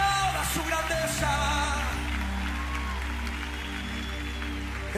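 Congregation applauding during a Spanish-language church service, steady dense clapping sustained over loud organ or keyboard chords and music throughout, without a break.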